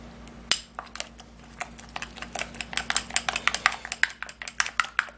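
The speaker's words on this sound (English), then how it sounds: "Okay, gonna mix all the remedy very well." A skin treatment remedy being stirred and mixed in a bowl, giving a quick, uneven run of small clinks and scrapes, close and fairly quiet, with no talking over it.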